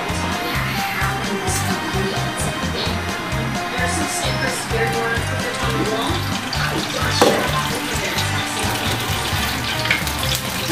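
Steady, loud sizzling and crackling of fish frying in hot oil, continuous and close, with faint clinks partway through.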